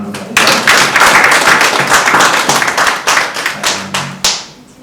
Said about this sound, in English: so you can see it's another round of applause.